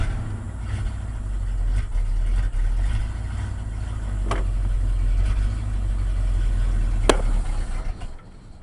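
A 1980 Ford F100 pickup engine idles after a cold start with a sticking throttle, a loud steady low rumble with slight fluctuations and a couple of sharp clicks, then fades at the end.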